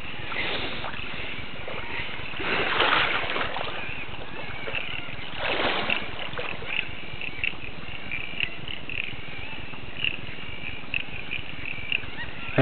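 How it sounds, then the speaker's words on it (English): Floodwater surges toward a shack near Leyburn, west of Toowoomba, during the December 2010 floods, making a steady, close, broad rushing roar with brief louder swells that holds throughout. "There's like a tidal wave coming, you can hear it."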